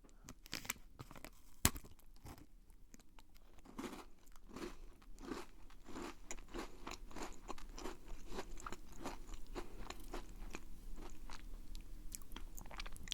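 Close, quiet crunching and chewing of a chocolate-coated snack with a cocoa biscuit inside, repeated crisp bites and chews in an irregular rhythm, with one sharper snap early on and no voice.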